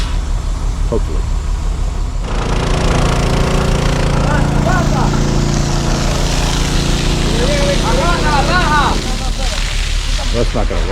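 A pump engine runs steadily at a house foundation site, a loud continuous mechanical drone that rises in intensity partway through, with people talking over it.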